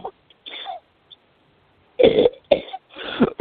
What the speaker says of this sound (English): You keep coughing into my show.